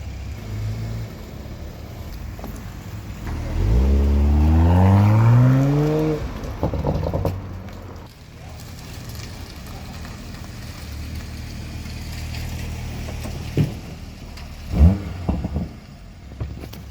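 A car engine revs up as it drives closer, rising in pitch over a couple of seconds and fading back under background noise, with a brief second rev near the end.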